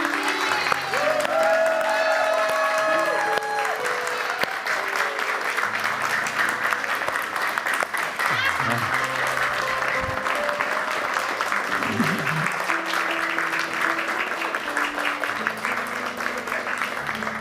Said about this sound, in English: I love that, Frederick, just to have everyone stand and clap